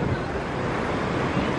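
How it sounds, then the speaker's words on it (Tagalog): Big ocean waves breaking on a beach make a steady, loud, broadband roar, with wind buffeting the microphone. "ang lalaki ng alon"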